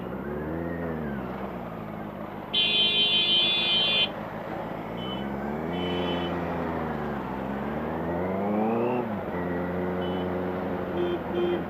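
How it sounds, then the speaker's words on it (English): A 2018 Benelli 600i ABS motorcycle engine revs repeatedly, its pitch rising and falling in several surges. A loud buzzing horn-like tone cuts in briefly partway through. "Keep revving the shit out of this bike because this thing sounds amazing"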